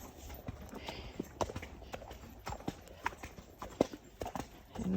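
Hooves of a Fjord horse in training clip-clop at a steady walking rhythm while ridden, each footfall crisp and close against a quiet outdoor background, with no talking.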